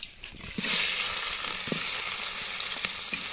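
Onions dropped into hot oil in a village picnic pan for cooking chicken skin and legs, bursting into a loud, steady sizzle after a quiet start, with a few faint stirring knocks.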